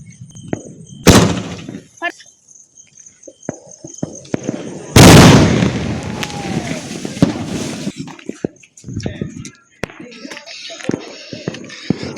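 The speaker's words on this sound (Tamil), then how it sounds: "இப்போ இந்த டபுள் பாலை தான் வெடிக்கும்" Two sharp bangs from a double-ball firework, the second bigger with a long crackling fizz, followed by scattered pops and faint voices.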